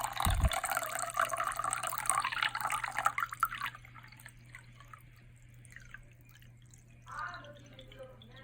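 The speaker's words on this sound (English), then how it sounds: "pour the liquid into the cup" Liquid pours steadily into a container for a few seconds, then stops, leaving a low hum and faint drips.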